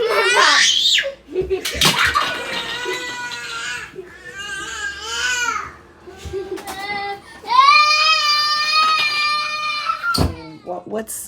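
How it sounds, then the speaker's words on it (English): Young children scream, wail and shriek close by at home, loud high-pitched cries and squeals in bursts with short pauses, mixed with an adult talking. "What's my videos if my children don't come and scream and do that fun stuff."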